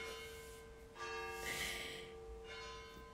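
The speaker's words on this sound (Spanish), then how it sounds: "se oye muy fuerte las campanas" Church bells ring in slow, resonant strokes with long sustained hums, heard at a moderate distance over a soft background hiss.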